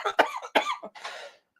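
A single person's cough, close and fairly loud: two sharp bursts followed by a rougher, breathy third hack, with no talk around it.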